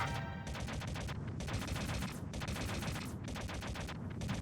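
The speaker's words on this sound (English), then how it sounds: "Taking a fair bit of damage in this snowfield, though, from these turrets." Turret gunfire in the snowfield of the Metal Gear Solid video game rattles in sustained rapid automatic bursts with brief gaps, loud and dense throughout.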